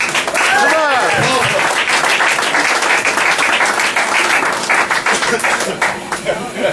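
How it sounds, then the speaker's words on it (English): Applause and clapping from an audience at a roast, steady and loud throughout, with a few voices calling out beneath the clapping. "Come on, round of applause."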